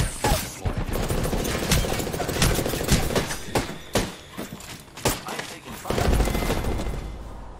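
Rapid bursts of video game gunfire crackle through the whole stretch, dense volleys with brief gaps, loud and close, with game voice lines mixed in.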